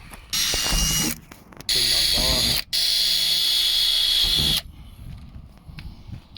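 A power drill drives screws during a campervan build, whirring in three bursts of a few seconds each, a ratcheting buzz with short pauses between, close by, and a voice murmurs briefly.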